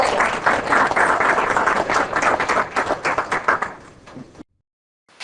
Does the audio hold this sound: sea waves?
no